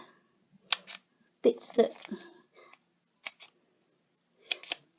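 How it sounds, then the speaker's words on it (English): Scissors snip off leftover bits of dimensional adhesive pads for a papercraft pillow box, giving a few short, crisp close cuts spaced between quiet soft-spoken talk. "I'm just going to snip off these"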